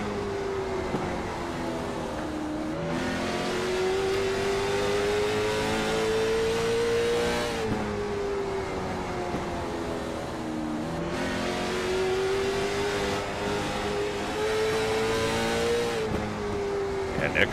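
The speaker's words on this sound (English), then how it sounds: "Let's say we sit along here with Nickerson, see if anything's going wrong with his race car here." An onboard race car engine roars continuously at a steady high pitch, rising and falling through shifts and corners during the King of Langley 150 race, with commentary voices underneath.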